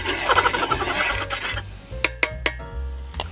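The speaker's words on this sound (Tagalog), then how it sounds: "So you put it in a pan and then lagyan mo ng konting raw minced garlic." Minced raw garlic stirred in a pan for a fried-rice dish, a close, busy scraping and soft frying hiss for the first second and a half, then a few sharp utensil clinks against the pan.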